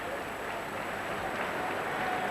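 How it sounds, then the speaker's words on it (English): Sustained applause from an arena audience for a Russian ice dance couple at the Lillehammer 1994 Olympics, a dense, even wash of clapping heard from a distance with faint speech beneath. "Maybe the applause for this Russian couple was more than for the previous Russian couple, Usova and Zhulin"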